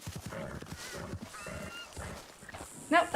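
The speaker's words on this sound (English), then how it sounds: "Nope, that was a bald eagle." A bald eagle calls in Red Dead Redemption 2 Online: a few thin, harmonic screeching cries rise over steady outdoor game ambience, moderately loud, with a sharper burst near the end.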